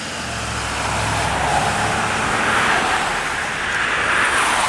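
Cars pass by on a road in a loud, continuous roadside wash of engine and tyre noise, with vehicles swelling and fading close by and no pauses or talk.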